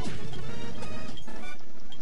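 Video game Pokemon battle sound as Azumarill lands a bite, a loud crunching smash that cuts off sharply midway, followed by thinner clicky tones, no voices.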